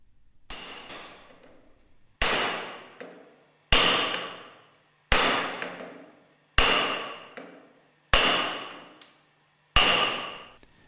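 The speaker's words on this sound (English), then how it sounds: "Place on a hard PVC mandrel and lightly hammer the clutch driver downwards." A clutch driver from a Westfalia separator being lightly hammered down onto a hard PVC mandrel, seven sharp metallic strikes about one and a half seconds apart, each ringing briefly before fading, close and loud.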